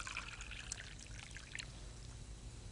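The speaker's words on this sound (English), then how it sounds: "You can take this tea kettle and pour" Liquid pours from a magic tea kettle into a cup, a faint, close trickle and splash with bright dribbling detail over the first second and a half before fading to a quiet hiss.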